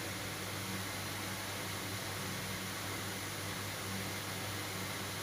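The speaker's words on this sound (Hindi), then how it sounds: "अब मेरा चल रहा है पंखा, तो इसकी आवाज़ आ रही है।" Electric ceiling fan runs in a room, giving a faint, even whooshing hum with no speech.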